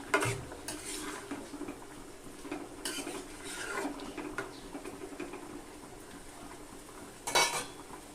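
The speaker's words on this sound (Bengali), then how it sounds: "চিংড়ি মাছটা দিয়ে একটু নেড়ে ছেড়ে দিতে হবে" Prawns and potatoes are stirred in a cooking pot: soft, faint scrapes and light metallic clinks of a spoon against the pot, with a brief louder scrape near the end.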